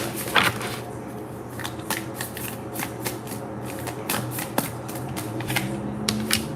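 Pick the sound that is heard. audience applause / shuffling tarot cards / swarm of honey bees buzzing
shuffling tarot cards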